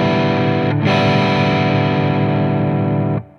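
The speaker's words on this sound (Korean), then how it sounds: "여기서 게인을 좀 줄여서 약간 크런치 톤을 좀 만들어 볼게요." An electric guitar played through a Macron Audio effects pedal set to a lower-gain crunch tone rings out as one sustained distorted chord, briefly re-struck, then cut off near the end.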